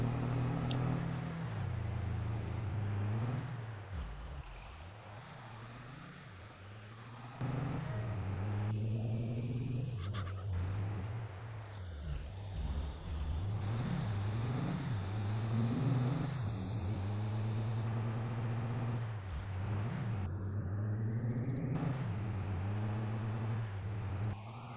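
A vehicle in Farming Simulator 22, driving back to a yard for more trees, gives a steady engine rumble with rising and falling revs that continues throughout without talk.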